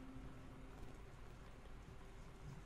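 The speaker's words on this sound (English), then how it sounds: "The rain just got loud again." Steady rain drums on a house in the game Gone Home, a dense continuous hiss at low level with no other sounds standing out.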